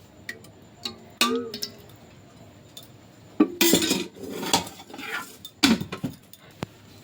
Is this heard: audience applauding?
no